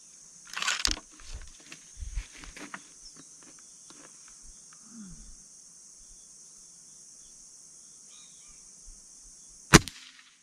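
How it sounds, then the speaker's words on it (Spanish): Several sharp air rifle shots firing Crosman hollow point pellets crack out in a quiet outdoor setting, spaced irregularly, with a final loud report near the end. "Vamos a hacer 5 disparos."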